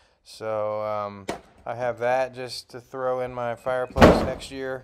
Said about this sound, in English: that was my cat knocking over a guitar case.